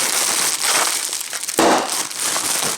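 Bubble-wrap style packing material from a boxed American Audio Q-Spand Pro mixer, crackling and popping in dense bursts as it is handled up close, with a louder crunch midway.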